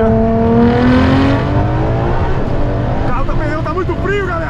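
A Ferrari LaFerrari accelerates hard in second gear, its engine note climbing steadily in a loud, continuous rising whine, with excited voices talking over it.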